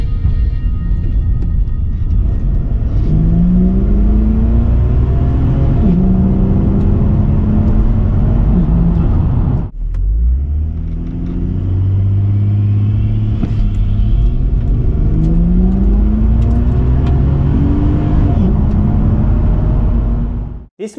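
A turbocharged Ford Falcon (BA/BF/FG) engine revs up hard through the gears on a test drive, a loud close rumble rising in pitch, dropping briefly at a shift, then climbing again.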